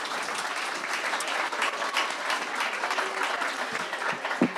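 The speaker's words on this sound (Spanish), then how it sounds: "Ponte un fuerte aplauso para Adriana." A seated audience at a public debate on urban space bursts into steady, dense applause that holds at full level throughout, close and continuous with no talk over it.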